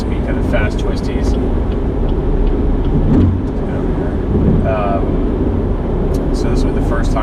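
A Chevrolet Camaro ZL1 drives on tight back roads, its engine and road noise forming a steady low rumble inside the cabin while someone talks over it.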